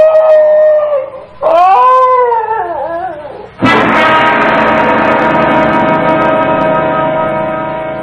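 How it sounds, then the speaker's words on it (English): A dog howls long and mournfully, then whines in wavering whimpers before launching into a sustained, loud howl, close and alone with no talk over it. "Now, what's all that? Why, it's the Higley dog"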